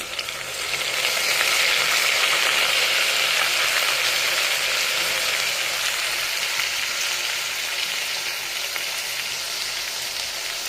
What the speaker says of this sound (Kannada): ಈಗ ಅಕ್ಕಿನ ಕಳಿಸ್ಕೊಂಡಿದ್ದೀನಿ ಅದು ಸ್ವಲ್ಪ ಫ್ರೈ ಮಾಡ್ಕೊಳ್ಳೋಣ ಕೆಂಪು ಬೆಳ್ಳುಳ್ಳಿ ಪೇಸ್ಟು